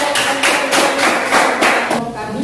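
Classroom applause from students, a loud close burst of overlapping claps in pulsing waves that taper off after about two seconds, with some voices underneath.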